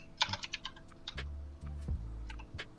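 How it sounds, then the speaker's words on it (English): Typing on a computer keyboard, a quick run of close clicking keystrokes followed by a few scattered, heavier key taps and a thump, with no talk. "Keep typing it wrong."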